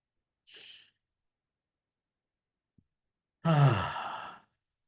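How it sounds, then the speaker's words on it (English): A deep meditation exhale through the mouth, one long audible breath-out near the mic, preceded by a short soft breath and otherwise quiet. "Breathe out through your mouth."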